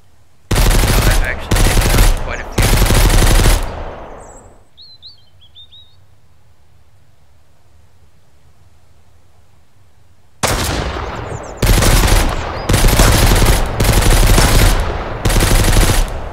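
Rapid automatic gunfire from the survival video game Mist Survival rings out in two long, loud bursts of sustained shooting, separated by a quiet gap where faint bird chirps can be heard.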